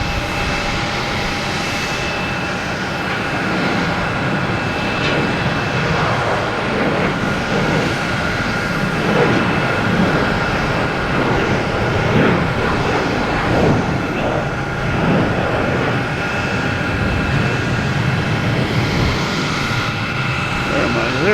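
A JetBlue Airbus A320 arriving at Boston Logan Airport, heard as a loud, sustained jet engine roar that swells and holds across the whole stretch, with people talking over it.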